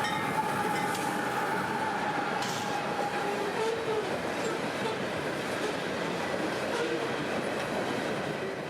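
A CSX freight shuttle hauling loaded phosphate cars on the Bone Valley line rolls past in the dark, a steady close rumble of wheels and cars with faint squeals, continuous for the whole stretch.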